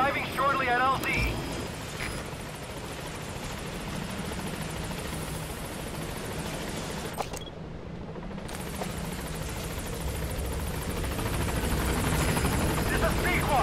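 A helicopter arrives at a landing zone in the Metal Gear Solid V video game, a steady, dense rotor-and-engine roar that cuts out briefly near the middle before resuming, with radio voices over it.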